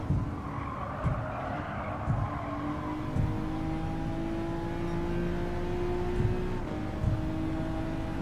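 A race car engine in Gran Turismo 7 during the WTC 600 race at Tokyo East: steady high revving drone with gear shifts and pitch rising and dropping, alone and fairly loud, with regular faint thumps.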